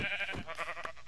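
A sheep in the Minecraft video game gives a single short, wavering bleat, close and clear.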